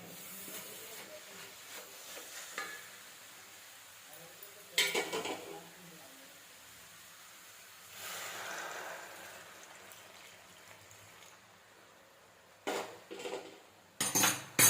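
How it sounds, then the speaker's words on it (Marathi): Milk poured into grated carrot halwa cooking in a pan gives a long soft rushing pour with steam and a faint sizzle, framed by clinks and scrapes of a utensil against the metal pan, quiet overall. "आता हे आपण आता याच्यामध्ये दूध टाकू"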